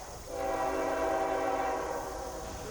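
A CSX freight train at Crawford, Jacksonville, sounds a loud sustained multi-chime horn that swells in abruptly and holds steady, with a low rumble of the passing train beneath it.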